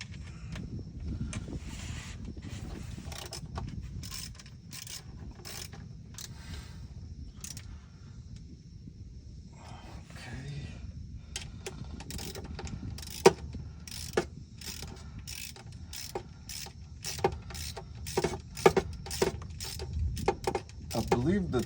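Quick metallic clicks of a ratchet wrench snugging bolts on a 2016 Ford F-250 6.7L PowerStroke transmission pan, rapid bursts growing denser toward the end, close under faint garage background.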